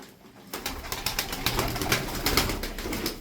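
Pigeons kept as fancy birds flutter and coo nearby, a busy mix of soft calls and wing flaps starting after a brief quiet moment.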